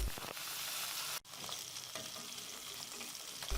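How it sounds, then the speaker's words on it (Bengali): Rohu fish pieces, rubbed with salt and turmeric, fry in hot mustard oil with a loud, steady sizzle, briefly dropping out once before resuming. "তেলটা যখন ভালোভাবে গরম হয়ে আসবে দিয়ে দিলাম কয়েক টুকরা রুই মাছ"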